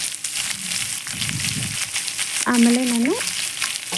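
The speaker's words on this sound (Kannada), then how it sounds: "ಆನಿಯನ್ನ ಮಿಕ್ಸಪ್ ಮಾಡ್ತಾಯಿದ್ದೀನಿ" Onions being stirred and fried in a pan for chithranna rice, a steady close sizzle throughout with a short voice speaking briefly near the middle.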